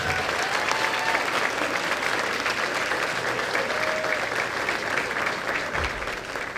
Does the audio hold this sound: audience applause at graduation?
yes